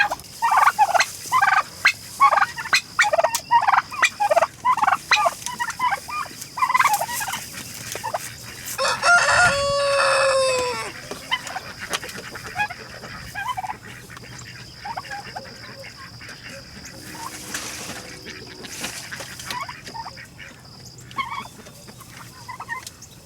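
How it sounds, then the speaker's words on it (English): Blue slate turkeys gobbling alongside chickens at morning feeding in a farmyard, a loud, busy chorus of repeated gobbles and clucks, with a rooster-like crow partway through and quieter bird calls afterward. "in this mess are my blue slate turkeys"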